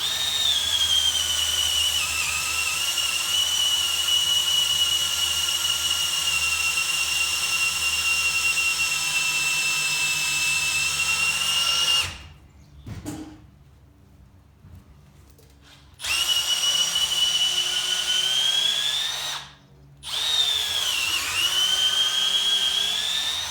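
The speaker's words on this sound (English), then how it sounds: "This is going to be a pretty tough test for this little drill." A Milwaukee M12 Fuel cordless hammer drill whines steadily at high pitch as it bores into pressure-treated wood, stopping abruptly twice with brief pauses before starting again.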